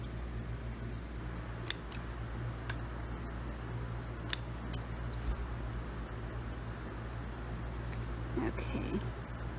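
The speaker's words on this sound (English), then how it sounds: "Let me continue snipping them off. I'm just gonna make sure I don't cut through the fabric." Scissors snip threads off a fabric wrist strap in a few sharp, isolated clicks over a steady low background hum.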